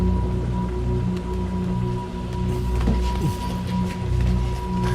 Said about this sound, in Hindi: काफी देर हो गई है और बारिश भी रुक नहीं रही है